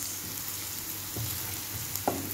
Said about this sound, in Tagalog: kailangan lang natin siyang i-brown konti yung onions